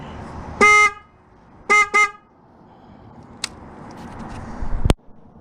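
Upgraded horn on an Aprilia motorcycle, one loud beep followed by two quick beeps, close by, then faint handling noises and a thump.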